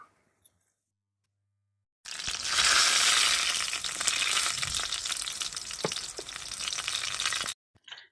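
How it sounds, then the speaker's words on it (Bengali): Sim beguni, bean fritters coated in batter with black cumin, fry in hot oil with a loud, dense crackling sizzle that starts suddenly after a near-silent opening, carries on for several seconds and then stops. "এগুলো ভাজা হলে পরে আবারও তুলে নেব"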